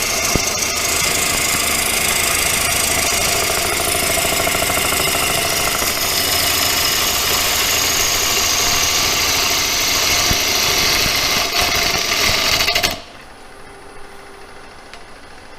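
A wood lathe spins a free log being turned into a bowl, the side of the gouge taking off a final unsupported edge; a loud, steady motor hum with continuous cutting noise runs alone, then drops sharply near the end.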